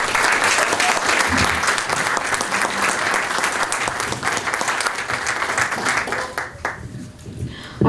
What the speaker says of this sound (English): Please give a big round of applause for KrisAnne Hall.